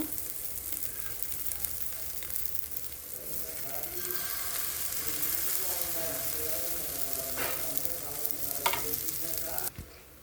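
Pantua pitha dough fries with egg in a pan, giving a steady low sizzle that swells slightly in the middle, with occasional scraping taps near the end.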